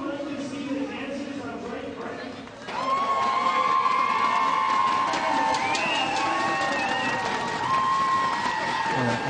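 A crowd cheers and applauds at a 3m springboard diving competition in Windsor, swelling from a murmur into sustained loud cheering and shouting that carries on throughout.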